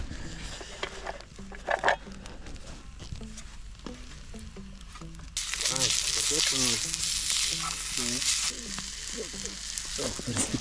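Onions frying in butter in a pan over a campfire outdoors, with a steady sizzle that swells louder partway through, broken by occasional scrapes and voices talking nearby.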